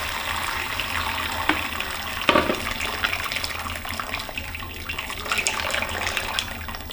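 Smoked stock poured through a plastic pasta strainer, a steady close splashing and trickling of liquid with a few louder sloshes and clunks, no voices.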